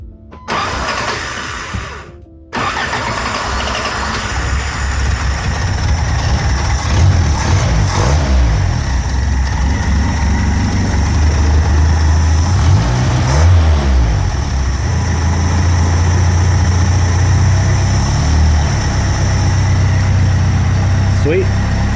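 The engine of a 1977 Toyota Celica cranks, catches after a brief pause and settles into a loud, steady idle with slight wavering in pitch, close by, with a voice speaking now and then over it.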